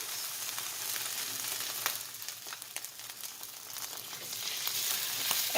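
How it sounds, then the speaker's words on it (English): Salmon fillet, skin side down, pan-searing in about a tablespoon of olive oil in a hot skillet, giving a steady, close, bright sizzle and crackle throughout with no talking. "So I'm going to cook the salmon right now."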